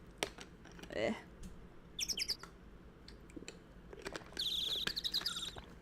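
Faint, sparse bird chirps in a video game scene, coming in short bursts of high tweets with quiet gaps between them, over a low background hiss.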